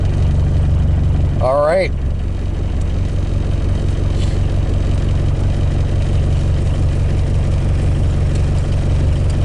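A diesel engine cold-started with starting fluid catches and settles into a loud, steady low-pitched idle, with a brief whining rise as it fires early on and a person speaking briefly.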